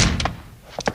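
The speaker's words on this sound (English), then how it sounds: "close that door" A door thumps shut in a radio drama, a short solid knock followed by a softer double thud of the latch near the end, close and fairly loud.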